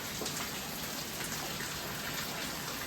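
Heavy rain falls in a dense, steady hiss that fills the whole stretch without a break, loud and continuous with no voices.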